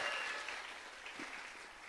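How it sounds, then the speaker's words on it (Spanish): A seated audience at a women's panel discussion claps for a guest, a continuous wash of applause that tapers slightly toward the end. "Démosle un aplauso a Miriamcita"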